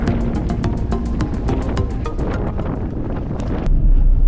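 Wind buffets a microphone outdoors in Namibia, a steady low rumble with scattered clicks throughout that swells louder near the end, with no speech.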